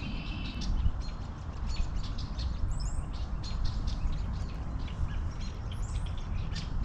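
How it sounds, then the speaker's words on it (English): Finches passing overhead chirp in faint, scattered calls over steady wind and outdoor noise on a wooded arboretum hike. "A lot of finches coming over."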